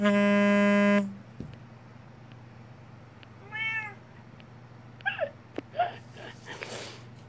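A cat gives a few short, close meows in a quiet room after a steady electronic buzz cuts off, with small rustles and thumps between the calls.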